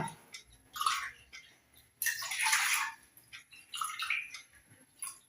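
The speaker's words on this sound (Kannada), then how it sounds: "ಇದರಲ್ಲಿ ಮೂರುವರೆ ಲೋಟ ನೀರು ಹಾಕಿದ್ದೇನೆ" Water is poured into a cooking pot for making ragi mudde, three separate splashing bursts of pouring, close and fairly clear with short pauses between them.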